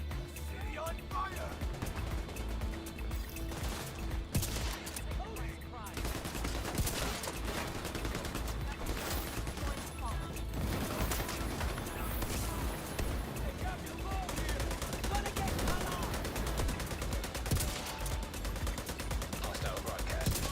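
Steady gunfire from The Division 2 runs through the whole stretch, dense overlapping shots layered with game effects, while a voice talks over it at moments.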